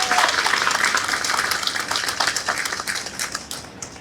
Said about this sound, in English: A round of applause for our team once again.